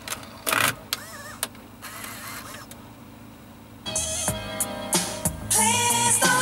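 Kenwood KRC999 Mark II car cassette deck draws a tape in with its servo loading mechanism, giving close whirring motor runs, clicks and clunks in separate bursts, then a louder steady mechanical whir.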